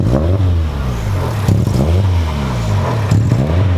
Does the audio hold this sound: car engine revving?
yes